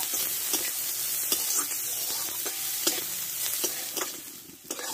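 Chopped onion frying in a pan while being stirred, with a loud continuous sizzle and repeated scraping strokes of the spoon at an irregular rhythm, close by and without talk.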